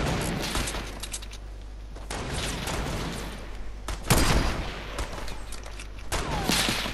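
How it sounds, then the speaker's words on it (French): Gunfire in a Fortnite sniper-rifle battle royale match: a steady stream of sharp shots and bursts with impacts, fairly loud and continuous, with a heavier cluster around the middle. "Ça tire."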